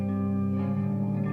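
A guitar chord rings out through a Strymon Big Sky reverb pedal, its sustained harmonics blooming into a lush, steady wash that holds evenly for over a second.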